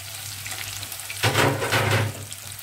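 Oil sizzling in a hot frying pan, a steady low hiss that swells into a louder, crackling sizzle about halfway through and holds there alone to the end.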